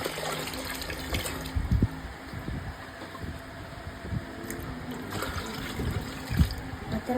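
Water pours and splashes into a home aquarium during a water change, a steady gushing trickle running throughout at close range with a few louder splashes, no talk over it.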